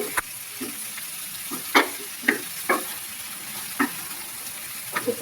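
Pangas fish curry with onion masala frying in a pan, with a soft continuous sizzle broken by several sharp stirring clinks and scrapes at an uneven pace, close and fairly quiet.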